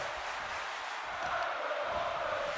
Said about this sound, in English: Gotta love this Fenix crowd here tonight.